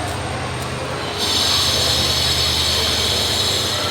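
A train rumbles steadily with a low rolling drone, swelling louder with a higher metallic whine after about a second and continuing evenly, close and without talk.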